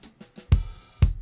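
A Nashville Snare drum sample with rim, mixed dry with room, gives two loud, thick-bodied hits about half a second apart, with a few faint lighter taps before them and a short roomy tail after each.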